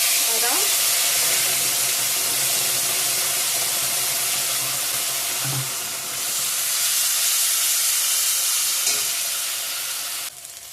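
Ground spice paste with tomato and chili sizzling in a pan for a cauliflower curry, giving a loud, continuous hissing fry that holds steady throughout with only slight swells.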